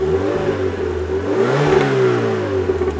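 A car engine with its stock exhaust revs up and eases back, a loud, close, throaty drone whose pitch climbs midway and then settles, heard alone without talk.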